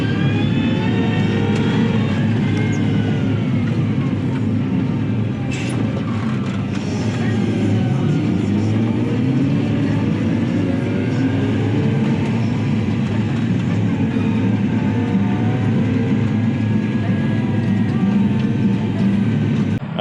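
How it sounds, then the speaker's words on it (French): A tractor reverses across a field to clear soil from its wheels, its engine a loud, steady drone with shifting pitch throughout, no voices over it. "Marche arrière pour nettoyer les roues."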